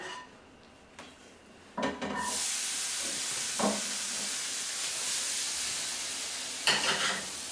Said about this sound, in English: And our fresh corn right into the pan.